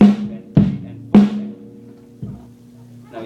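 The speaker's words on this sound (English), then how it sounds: "The snare drum, it would sound like this with the snare drum." A snare drum struck in a basic rock beat: a few sharp, ringing hits spaced unevenly, close and loud, each with a short rattling decay, and no talking.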